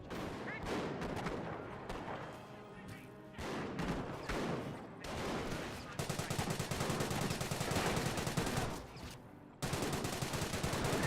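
An MG42 machine gun in Company of Heroes rattles in long rapid bursts amid other battlefield gunfire and explosions, loud and continuous with brief pauses, while a commentator speaks over the action.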